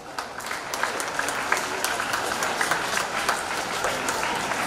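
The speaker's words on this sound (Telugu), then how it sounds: "క్లాప్స్." Audience at a school Independence Day celebration clapping continuously, a dense, even wash of many hands at moderate distance with crowd murmur mixed in.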